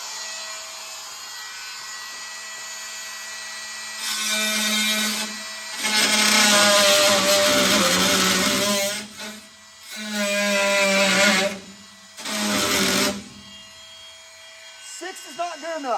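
An oscillating multi-tool set to speed 6 buzzes in several bursts of a few seconds each, loud and close, with gaps of quieter background hum between them while work continues on a Firebird build.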